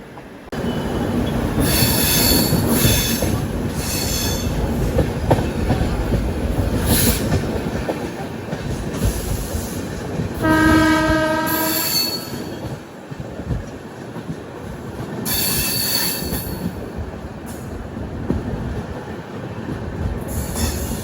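The Janshatabdi Express rolls along the rails between Tenali Junction and New Guntur with a steady rumble and rattle. A sharp, high wheel squeal rises midway, and the sound is loud and continuous.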